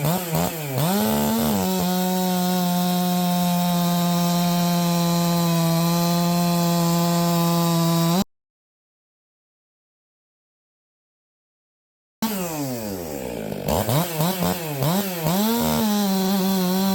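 A ported Stihl 362 60cc chainsaw cutting wood: a loud, steady high-revving buzz held under load with pitch swoops at the start, a silent gap, then revving up and down again, close by.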